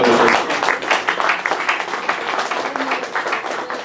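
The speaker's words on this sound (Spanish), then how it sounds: "Un fuerte aplauso al Señor." A church congregation bursts into applause during a Spanish-language sermon, loud at first and then settling into steady, slightly uneven clapping that tapers a little toward the end.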